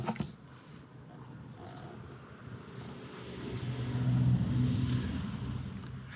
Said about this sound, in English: I can hear a car